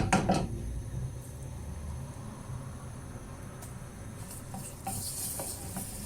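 Vegetables sautéing with tomato paste in a pan, a soft steady sizzle under intermittent stirring scrapes and light clinks of a utensil against the pan, fairly quiet and close.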